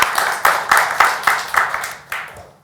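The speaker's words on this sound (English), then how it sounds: "So a big round of applause." Audience applause at a talk event: a series of sharp, bright claps from a small crowd, loud and close, building in regular bursts before tapering off after a couple of seconds.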